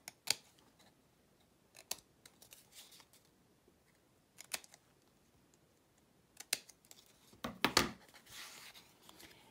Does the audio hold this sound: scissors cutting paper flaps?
yes